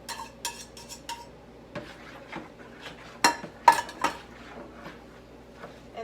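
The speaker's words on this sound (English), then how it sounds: "Stir them into the applesauce mixture." Beaten eggs are stirred into an applesauce mixture in a bowl, giving a series of irregular clinks and scrapes of a utensil against the bowl, some sharp and loud, others faint, with no voices.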